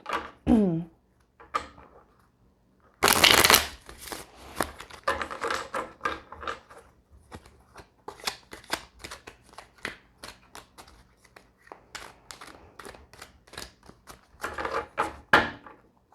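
Cards being shuffled close up: a loud riffle burst, then a long run of quick, crisp flicks and snaps with brief pauses, ending in another riffle.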